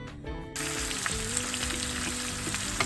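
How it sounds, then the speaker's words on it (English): Onions dropped into hot oil for egg curry puffs, sizzling and frying as a loud, continuous crackle that starts abruptly and carries on steadily. "Let's add our onions to the oil"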